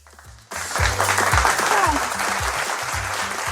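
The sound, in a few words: applause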